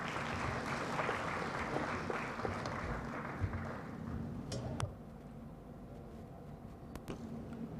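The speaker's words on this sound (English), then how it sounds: "A bigger hand of applause for both Dr. Mugume and our PSST." Audience applause at an economic growth forum, broad steady clapping that fills the room and tapers off toward the end, with a few sharper claps and noises standing out near the close.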